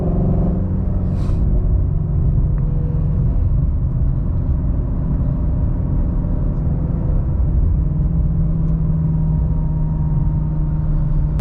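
Inside a Shelby GT350 on the move, the engine drones as a loud, steady low rumble at high RPM, blended with road and cabin noise and holding constant for several seconds without speech.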